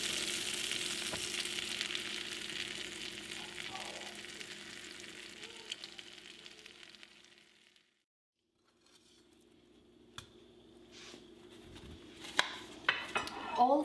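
Lavash and cheese egg rolls fry in a pan, a steady soft sizzle that fades out and returns, with a few sharp clinks of utensils against the pan toward the end.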